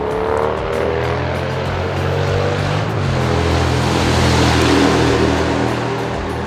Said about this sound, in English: everyone's got supremely loud exhaust around here